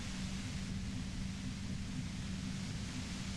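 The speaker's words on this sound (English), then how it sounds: "You hear through the white noise. It's especially bad suddenly." Static white noise hiss from the video game Disco Elysium, a steady, even wash of broadband noise with a low rumbling floor, constant and unbroken throughout with no voices.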